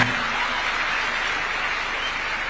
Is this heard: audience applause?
yes